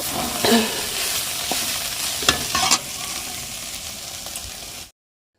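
Lentil bori, dried lentil dumplings, frying in a pan, with a continuous close sizzle broken by scraping stirs, before the sound cuts off abruptly near the end.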